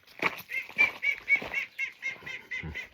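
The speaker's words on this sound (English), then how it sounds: "Ducks." Ducks call in a close, busy run of repeated quacks, about a dozen nasal notes in steady succession with no talk over them.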